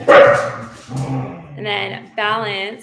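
Several dogs bark and yelp outside, their sharp, tonal barks rising over a person talking in the foreground.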